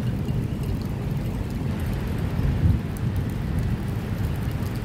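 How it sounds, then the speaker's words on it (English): Steady rain pours down on a rainy day with rolling thunder, a dense continuous wash of noise with a deeper rumble swelling near the middle; no voices. "And have thunder also, guys."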